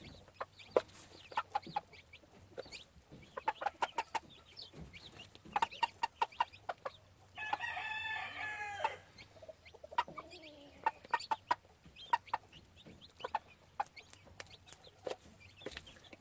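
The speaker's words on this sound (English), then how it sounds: "I like these old black chickens a lot." Old black gamefowl chickens on a farm give soft, scattered clucks and short calls at a moderate distance, with a brief louder squawking burst midway, quiet and outdoors with no talk.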